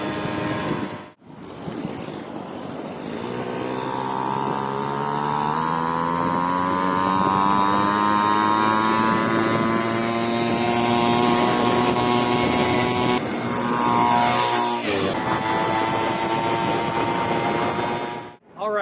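A two-stroke engine on a cheap motorized bicycle revs up and holds a loud, steady buzzing drone with rising pitch as it pulls away, close to the microphone, with wind buffeting throughout and brief gaps near the start and end.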